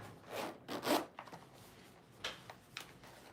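Zipper on a 10-inch by 10-inch vinyl sticker pouch being pulled back and forth in a few quick rasping strokes, close and quiet, with short scratchy rubs between them.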